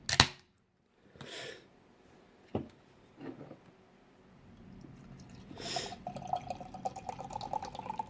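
Hoppy IPA beer is poured into a glass after a can crack at the start, giving soft, close liquid splashing and fizzing that builds toward the end.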